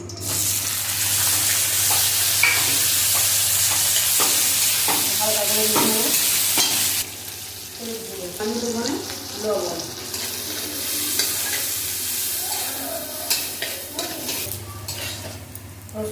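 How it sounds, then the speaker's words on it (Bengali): Garlic, onion and green chilies fry in mustard oil with a loud, steady sizzle, later broken by clattering stirs and pan scrapes, close by and with no speech. "এখন ভর্তা করার জন্য রসুন পেঁয়াজ কাঁচা লঙ্কা একটু ভেজে নেব"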